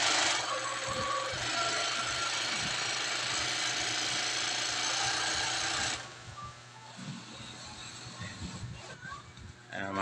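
An industrial sewing machine stitches piping with a loud, dense, fast mechanical whir for about six seconds, then stops; someone talks over and after it amid light handling knocks.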